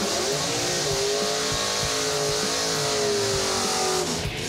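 An alcohol-fuelled Camaro drag car accelerates hard down the strip, a loud sustained engine roar with rising pitch and some tire noise, no voices over it.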